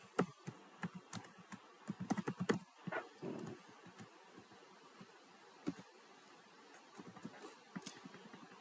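Bursts of typing on a computer keyboard while fake names are entered into an admin account form, quick irregular key clicks close by, pausing and resuming, with no talk.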